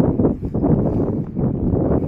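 Steady outdoor wind buffets the microphone with a continuous low roar on a cold day at a scenic spot near a museum in Auckland, loud and unbroken with no talk.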